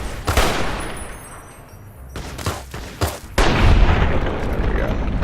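Gunfire from a sneak critical headshot in the video game Fallout New Vegas: a few sharp, loud booming shots with echoing tails, then a sustained heavy rumble, with no speech.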